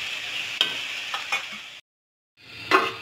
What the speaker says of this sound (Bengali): এবার মশলাটার ভিতরে মাছটা দিয়ে একটু কষিয়ে নেব